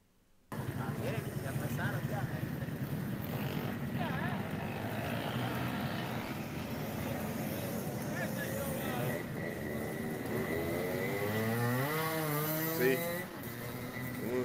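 Motorbikes rev and speed off on a street in Higuey, La Altagracia, Dominican Republic, with a steady buzzing engine drone and rising whines as riders pop wheelies, heard from a short distance.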